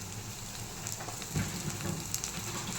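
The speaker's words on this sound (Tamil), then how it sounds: "நல்லா கோல்டன் ஃப்ரை ஆகணும் வெங்காயம் நல்லா ஃப்ரை ஆகிடுச்சு" Large onions frying in oil with garlic and curry leaves give a faint, continuous crackling sizzle with scattered pops, with no voices.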